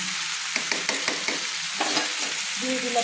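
Pumpkin and potato frying with spices in oil, a continuous sizzle broken by repeated scraping strokes of a stirring spoon, close and fairly loud with no talking.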